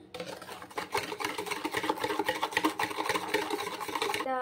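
Chocolate cake batter with vanilla essence being mixed by hand in a bowl, a dense scraping, swishing rhythm of quick repeated strokes that continues steadily and fairly close.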